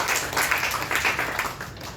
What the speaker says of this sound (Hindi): अतः मैं महाविद्यालय और हिंदी विभाग की ओर से उनको भी तालियों के साथ धन्यवाद ज्ञापन करता हूं.